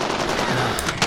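Automatic gunfire from a Call of Duty Modern Warfare match, a loud, dense burst of rapid shots filling about a second without any voices.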